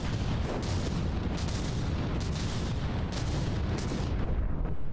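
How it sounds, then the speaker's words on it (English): Battleship shells firing and hitting in the naval combat game From the Depths, a dense rumbling barrage of booming, overlapping artillery blasts with sharp bursts recurring every second or so, continuous and heavy. "The shells keep popping in, but too many turrets are still alive."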